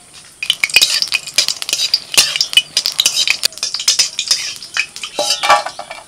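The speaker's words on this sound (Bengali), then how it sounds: "এবার কয়েকটা শুকনো লঙ্কা আমি ভেজে নেব।" Dried red chillies fry in oil in a wok, the sizzle broken by busy metallic scraping and clinking of a spatula against the pan, loud and close, with no voices.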